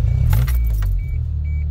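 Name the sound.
car alternator switched on with keys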